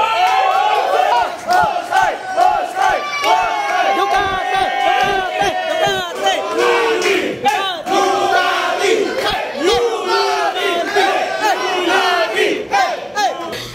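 A loud crowd shouting and cheering together, with whoops and raised voices blending into a continuous roar.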